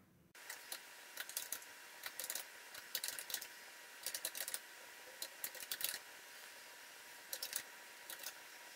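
Commands are typed on a computer keyboard in quick, irregular bursts of clicky keystrokes with short pauses between them, close and fairly quiet over a low background hum, with no talking.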